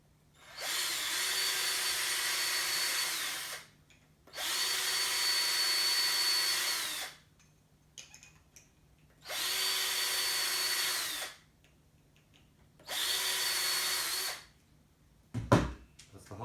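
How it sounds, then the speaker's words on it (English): A power drill bores through bolt holes on a 3D printer bed and Z-axis assembly, running in four steady bursts of a few seconds each, with quiet pauses between and a brief clunk near the end. "just to change the drill bits over, clean up those holes and put the thread through"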